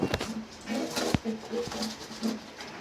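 Black lotan pigeons coo in low, soft, repeated bursts close by, with faint rustles and taps in the background.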